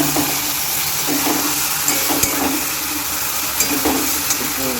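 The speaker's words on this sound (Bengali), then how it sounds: "তো সর্ষেটা দিয়ে দিয়েছি, এখন ভালো করে কষাতে হবে" A paste of black and white mustard seeds frying in a pan over low heat, giving a loud, continuous hissing sizzle with faint scattered knocks from stirring.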